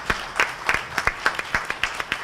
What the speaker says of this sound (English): So I want to give a round of applause to Mr. Jerry Caravella.